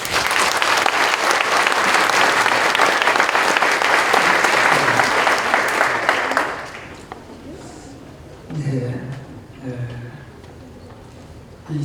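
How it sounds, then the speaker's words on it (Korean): A church congregation at a senior pastor's installation and ordination thanksgiving service applauds warmly in a sustained, loud wave of clapping for about six seconds, then it fades to scattered sounds and faint voices. "우리 뜨거운 박수로 환영하겠습니다"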